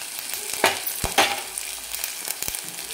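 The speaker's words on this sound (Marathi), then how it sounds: "त्याला पण आपल्याला छान परतून घ्यायचं आहे" Freshly ground masala sautéing in a pan, a steady soft sizzle broken by a few sharp scrapes and clinks of a spoon stirring, close by with no talk.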